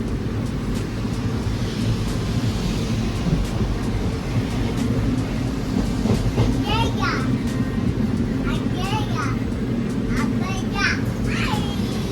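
A passenger train from Mangalore rolls along with a constant low rumble beneath close conversation and children's voices.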